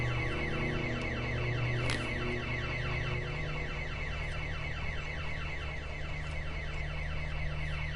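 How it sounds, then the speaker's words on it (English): A car alarm blares continuously, cycling through its rapid repeating electronic siren pattern at steady loudness, alone with no talking. "there's been an alarm set off."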